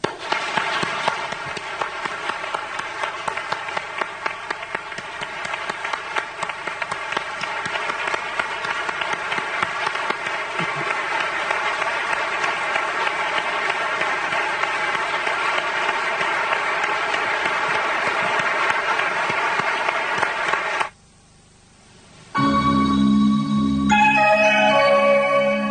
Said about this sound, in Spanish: Dediquémosle nosotros un aplauso caluroso a este gran hombre y gran amigo que se nos fue.